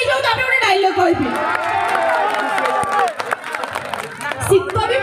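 Audience at a cultural festival stage show clapping and cheering loudly, with shouts and whistles rising over a crowd murmur, while a voice speaks over the noise.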